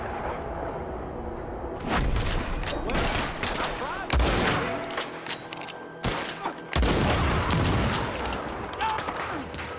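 Rapid bursts of gunfire from a Red Dead Redemption 2 western shootout, loud and dense with sharp repeated cracks and booming impacts, layered over busy game sound and occasional voices.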